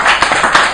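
Sustained audience clapping at a humanist society talk on magic and alternative medicine, dense and steady across the whole moment, loud and close, with no voices over it.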